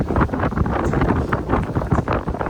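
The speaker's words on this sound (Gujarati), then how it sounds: "જો કેટલો પવન છે" Strong wind buffets the microphone in heavy, low gusts, producing a continuous rumbling roar that rises and falls throughout.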